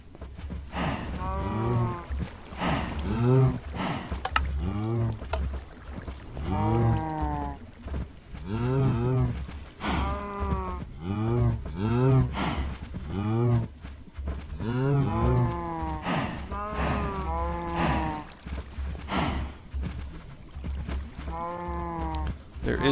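Blocky video-game cattle on a farm moo again and again, repeated low drawn-out calls overlapping in steady succession, fairly loud with little else around them.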